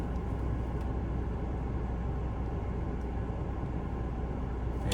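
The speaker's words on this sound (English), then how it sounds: "if you hear any noise in the background, it's starting to heat up out here, so I got the AC on." Steady, continuous broadband hum of an air conditioner running throughout, with no talking and no change in level.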